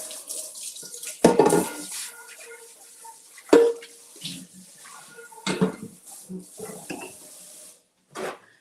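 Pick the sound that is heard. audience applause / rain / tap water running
tap water running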